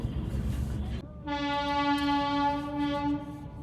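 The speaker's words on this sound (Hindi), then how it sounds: "अभी ट्रेन आने वाली, फाटक में खड़े हैं।" At a foggy railway level crossing, an approaching train sounds its horn in one sustained, fairly loud blast of about two seconds, following a short stretch of low rumbling noise.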